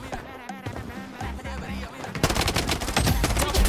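Hip-fired gunfire in the shooter game Blood Strike: muffled game sounds give way to loud, rapid automatic bursts of dense cracking shots that fill the second half.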